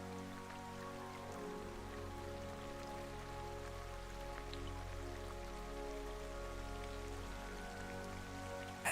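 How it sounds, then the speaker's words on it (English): Soft, faint rain patters on a pavilion roof, heard as a distant steady texture beneath quiet sustained musical tones. "rain on the pavilion roof."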